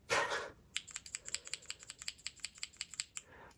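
Plastic keyboard keycaps from a Japan tour merchandise set are clicked in a quick series of sharp, close taps, roughly a dozen light clacks in an uneven rhythm after a brief rustle of handling.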